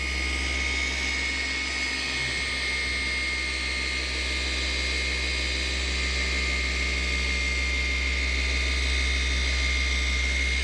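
A machine polisher whirs in a loud, unbroken drone with a faint rattling texture through a horizontal polishing pass on a car panel, holding steady from start to finish.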